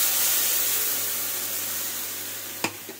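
Spice paste hits hot oil in a wok with bay leaves, giving a steady broad sizzle that slowly fades, then one sharp clink of a utensil near the end.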